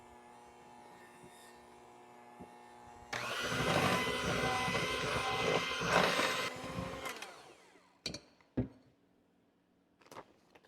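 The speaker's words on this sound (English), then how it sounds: "If you need a good hand mixer, this one's a good one. Has a nice low setting to keep things from splattering all over the place." A hand mixer creams thick powdered sugar frosting, starting with a faint hum, then a loud, close whirring burst of several seconds that tapers off, followed by a few short knocks and clatters.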